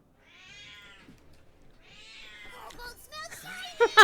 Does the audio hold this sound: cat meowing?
yes